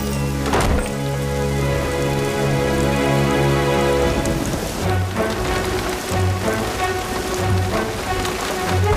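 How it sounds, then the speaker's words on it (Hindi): Heavy rain pours down in a steady, dense hiss, loud and close, with a sharp crack early on and continuous droplet patter throughout, alone without speech. "बरसात बहुत जोरों से हो रही है"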